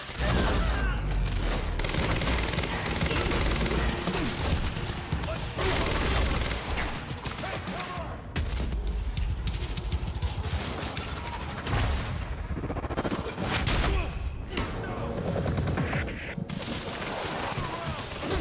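Sustained bursts of automatic gunfire and explosive booms from the Quantum Break video game fill the scene, loud and dense, with rapid volleys continuing almost without pause throughout.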